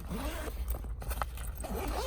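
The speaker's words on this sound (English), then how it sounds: "It opens with two zipper pulls." Two zipper pulls slide open along a JuJuBe diaper bag, a close, steady scratchy rasp with a brief pause in the middle.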